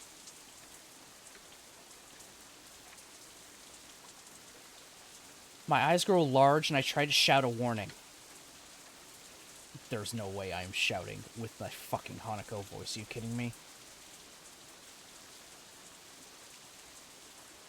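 Steady rain falling in the Katawa Shoujo visual novel, a soft continuous hiss throughout, with a person reading lines aloud over it in two stretches.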